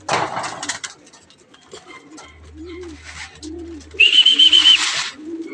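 A hungry young racing pigeon coos in soft, repeated low bursts. A loud flurry opens the sound and a bright, wavering squeak-like call rises near the end.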